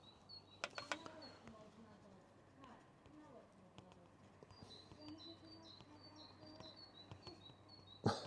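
Birds chirp and tweet outside in faint, repeated high calls during a quiet drawing session, with soft distant background noise and a few louder knocks nearby.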